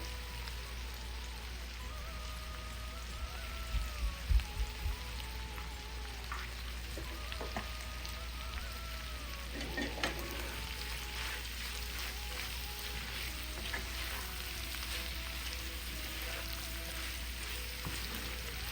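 Shrimp frying in a pan give off a steady, close sizzle and crackle with a few louder pops, alongside a constant low hum; no one speaks.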